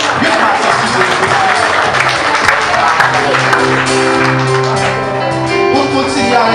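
An audience applauds the women at an International Women's Day event, with dense, steady clapping and crowd noise filling the whole stretch and some tonal, music-like sounds mixed in.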